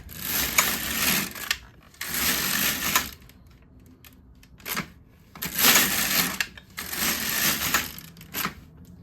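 Flatbed knitting machine knitting rows of a cardigan, the carriage swept back and forth in four loud rasping passes, each a couple of seconds long, separated by short pauses and a click.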